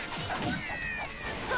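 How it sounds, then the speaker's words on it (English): Cats meow in the snowy, cold-looking setting of the video game Dragon Quest Heroes 2, a few short mewing calls mixed into busy battle sounds and background music. "And there's cats!"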